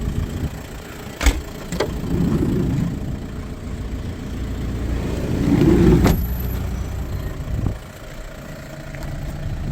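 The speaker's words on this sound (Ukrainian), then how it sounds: "Заведений двигун, чуєте, як чисто працює." A Fiat Doblo diesel van engine idles steadily with a low rumble, a few brief clicks and bumps rising over the even drone.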